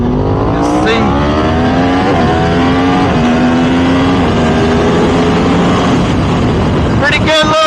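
Yamaha R1M and Suzuki GSXR 1000 superbikes ride hard together, a loud close engine drone with rising and falling gear-shift tones and heavy wind rush throughout, ending in a sharp burst of revs.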